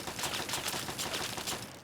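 Robot turrets in Fallout 3 firing rapid repeated bursts, like a chattering machine gun, steady and moderately loud through the whole stretch with no talk over it.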